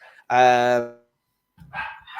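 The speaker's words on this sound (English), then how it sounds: "Sorry, my dog's." A pet dog gives a single loud, close bark indoors, followed after a pause by a shorter, fainter yip or whine.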